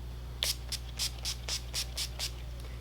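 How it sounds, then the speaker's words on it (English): NYX Dewy Finish setting spray misted onto a face in a makeup routine, heard as a run of about nine short, crisp pump hisses at an even rhythm, close and clear. "I'm going to spray my face with the NYX Dewy Finish Fini Veloute spray."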